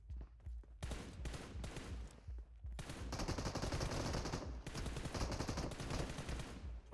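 Rapid bursts of automatic gunfire from a PUBG Mobile match during a grand finals watch party, dense and sustained across the clip with loud crackling volleys layered over game ambience.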